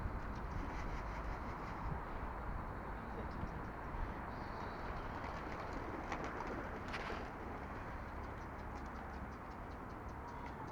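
Soft pigeon coos repeat close by over a constant low rumble of background noise, with faint fluttering in between.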